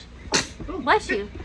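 A single sharp sneeze bursts out close to the microphone, followed right away by a voice speaking briefly in a quiet indoor room.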